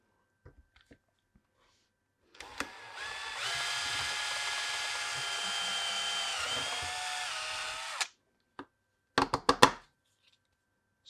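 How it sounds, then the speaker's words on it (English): A power drill bores a hole through a board while installing a TDC upgrade kit on an AAP-01, one steady whining run of about five seconds, close and loud, bracketed by a few clicks and handling knocks. "So we'll go ahead and drill the hole"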